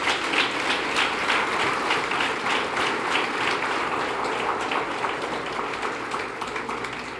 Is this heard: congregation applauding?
yes